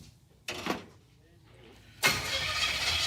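A 1957 Chevrolet Bel Air's engine cranks and starts with a short whirring burst, then catches into a loud, steady broadband running roar close by.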